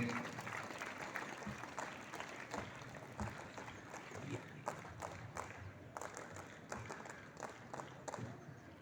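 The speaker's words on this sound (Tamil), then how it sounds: "அவர்களுக்கு மிகவும் ஒரு கைத்தட்டை மீண்டும் கொடுத்து உற்சாகப்படுத்துமாறு தெரிந்து கொள்கிறேன்" An audience at a Republic Day function at a cement plant breaks into prolonged applause, a thick, continuous roar of many hands clapping that carries on for nearly nine seconds with a few louder bursts.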